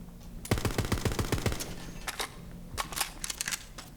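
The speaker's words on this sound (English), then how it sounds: "Dahl assault rifle. Switch between full auto and semi-auto." A Dahl assault rifle fires in Borderlands, opening with a rapid full-auto burst of about ten shots and followed by scattered single semi-auto shots, loud and close with no talking.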